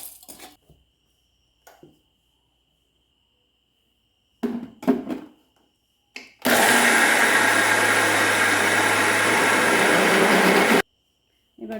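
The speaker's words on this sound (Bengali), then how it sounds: "এবার চালটা বাটবো" A mixer grinder roars steadily while grinding soaked rice for idli and dosa batter. It runs for about four seconds after some quiet clinks of kitchen handling, then stops abruptly.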